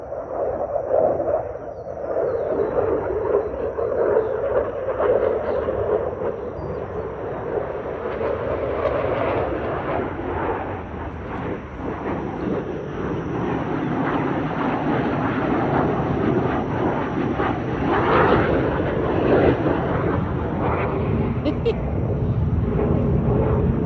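A jet aircraft passes overhead outdoors on a hot day, a loud sustained broadband roar that holds steady and swells slightly toward the end, with voices talking beneath it.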